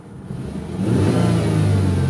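A Dodge Intrepid with 31,000 miles runs with a slight whine, its engine note swelling as it revs up, a steady mid-pitched drone with a faint whine on top, close and loud with no talk.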